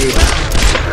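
A gun fires a short, loud burst in the Tomb Raider video game, with two or three heavy shots close together inside one second.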